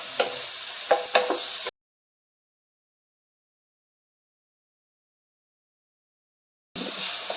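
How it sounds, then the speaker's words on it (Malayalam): 250 g paneer sautéing in ghee in a pan while making paneer pulao, a close sizzle with scraping stirs in two bursts separated by a long stretch of silence. "നമ്മളിനി പനീറിനെ നല്ലപോലെ വഴറ്റിയെടുക്കണം."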